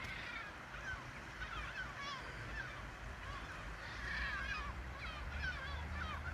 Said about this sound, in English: Shouldn't have fished so close to the seagulls.